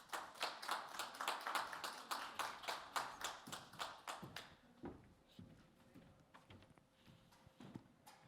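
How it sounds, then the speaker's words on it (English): Audience applause greets panelists at an NFT conference panel in London: a steady patter of clapping for about four seconds, then fading into scattered claps and faint room noise. "give them a warm welcome with a round of applause, Cairon and Shashaya."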